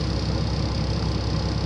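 A parked car's engine idles steadily, a low continuous rumble with an even, unbroken drone and no voices over it.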